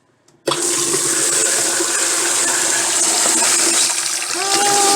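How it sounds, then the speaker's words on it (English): Water gushes from a newly installed bathroom sink faucet, switching on abruptly after a brief quiet moment and running in a steady, close hiss with a faint rising tone near the end. "the water ain't coming out of there quite as luxurious as I was hoping"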